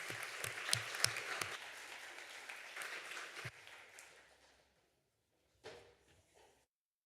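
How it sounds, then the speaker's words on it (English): An audience at a conference session on the future of work in the digital economy claps steadily for a panel, the applause thinning out and stopping midway, followed by a brief burst of shuffling noise. "please join me in an applause for the panel"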